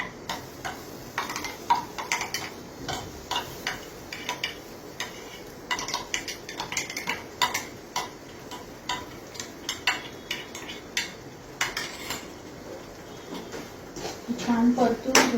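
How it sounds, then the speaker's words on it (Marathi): A spoon stirs and scrapes masala paste sautéing in oil in a pan for Maharashtrian misal, steady rhythmic tapping and scraping clicks throughout, with someone talking over it. "छान परतून घेऊया वाटण"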